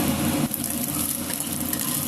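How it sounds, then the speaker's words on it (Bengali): An egg frying in oil already used for prawns, a constant bright sizzle with a stirring scrape near the start, steady and close. "ডিমটা একই তেলে আমি ভেজে নিচ্ছি।"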